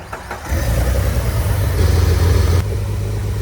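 A Jeep engine cranks briefly, catches and roars to life, then settles into a loud, steady idle close by.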